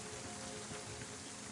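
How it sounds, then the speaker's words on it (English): A rain sound effect is played during a tabletop roleplaying session, giving a steady, dense hiss of falling rain with no talking over it. "I need to get some rain sounds."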